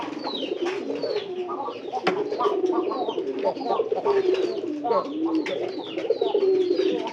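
Pigeons coo steadily and close by inside a home loft, a continuous layered murmur of soft throaty calls running through the whole stretch, with a few brighter bird notes above.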